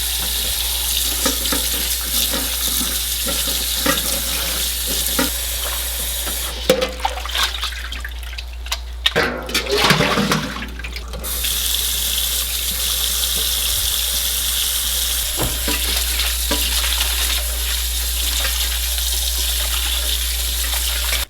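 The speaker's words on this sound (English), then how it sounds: "I am going to put this into a colander and rinse this at least 2 times." Salted bitter melon being rinsed in a colander under running tap water, with a steady hiss of flowing water throughout, briefly broken by handling and splashing sounds midway, then the continuous stream resumes.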